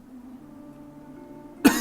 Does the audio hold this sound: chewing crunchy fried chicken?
no